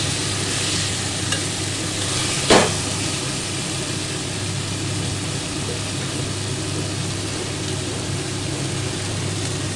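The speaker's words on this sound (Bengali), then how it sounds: "মাছ ভাজাটা দিয়ে দিলাম খুব হালকা হাতে। এবার আমি ঘুরিয়ে দেবো।" Fried mourala fish sizzle steadily in a hot pan while being stirred gently, a constant close frying hiss with one brief scrape of the spoon, no voices.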